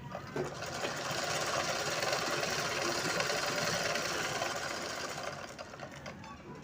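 A sewing machine stitches around a blouse neckline, a close, steady motor whir and rapid needle chatter running continuously for several seconds before easing slightly at the end.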